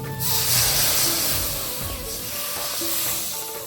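Water hits a hot pan of frying onion, garlic and turmeric paste with a loud, sudden hiss that settles into a steady steaming sizzle.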